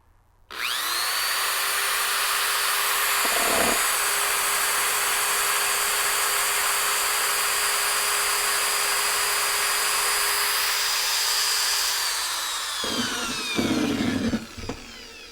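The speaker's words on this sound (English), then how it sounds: "First up, plug-in hand drill." A corded power drill running off a Jackery 240 V2 solar generator whirs at a steady high pitch for about twelve seconds, then winds down, with brief knocks and handling noises around it.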